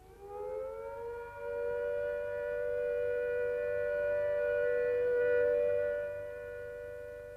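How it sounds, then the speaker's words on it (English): A steady civil defence all-clear siren sounds alone, a sustained, unwavering wail that holds its pitch for about six seconds before fading slightly. "When the all clear sounds,"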